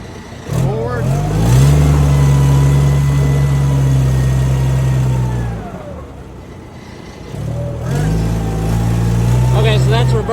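An FD80 vehicle engine running while driving off, loud close low drone with rising revs, a dip in the middle as it eases off, then pulling again.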